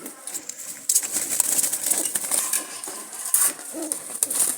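Jalali pigeons coo repeatedly from a short distance, soft low calls rising and falling over a hissy, busy background with no voices.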